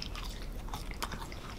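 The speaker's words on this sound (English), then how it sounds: "There's a nice crunch from the oaty topping on top." Someone bites into and chews crunchy Papa John's Cinnapie sticks with an oat crumb topping, giving close, crisp crunching and chewing sounds.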